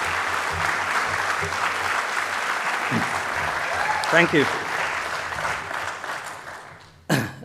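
Sustained applause from a crowd at the 56th AWGIE Awards ceremony fills the room, with someone briefly saying a few words over it before the clapping fades and a short burst returns.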